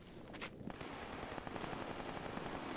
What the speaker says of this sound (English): there's a lot of gunfire going on over there